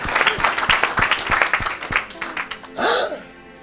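Church congregation clapping in a strong, fast rhythm through most of the moment, then a sharp burst of crowd noise and a voice near the end.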